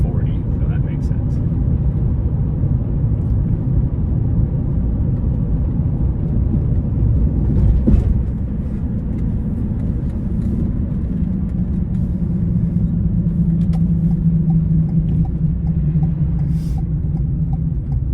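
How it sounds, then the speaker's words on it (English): Road traffic heard from inside a vehicle on a hot day, a continuous low engine and tyre rumble with steady road noise throughout, a faint passing swell near the middle, no talk over it. "There is so much traffic out."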